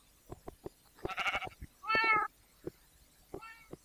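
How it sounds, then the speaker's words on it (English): Several cat meows from a video game, including a drawn-out bleating cry and a shorter call near the end, interspersed with soft thuds and footsteps. "that's the first time those cats have sort of respawned outside my house"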